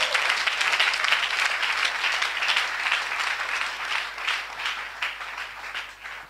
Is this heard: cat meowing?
no